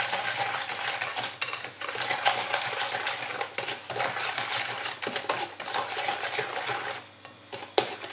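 An electric hand mixer whirs continuously through flour and sugar in a bowl, a steady close-up buzz with brief dips and rattles as the beaters knock the sides.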